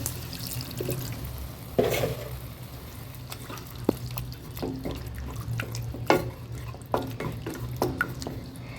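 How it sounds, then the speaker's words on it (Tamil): Wet sizzling in a pan as a spoon stirs and scrapes onion, tomato and masala with a little water added, with scattered clinks and drips, close by and fairly steady. "மசாலா வதங்கிறதுக்கு கொஞ்சமாக தண்ணி ஊற்றுறேன்"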